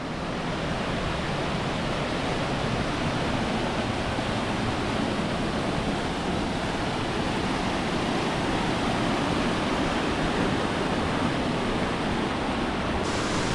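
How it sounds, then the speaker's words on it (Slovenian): Waterfall in the Nivica canyon, Albania, pouring into a pool: a constant, dense roar of falling water, steady and close, with no voices. "Zdaj se nam je pa pokazal tale čudovit slap s še lepšim tolmunom."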